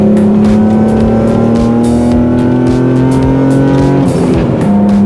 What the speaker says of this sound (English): this is kind of a droney exhaust, and there is a little bit of a buzz at wide open throttle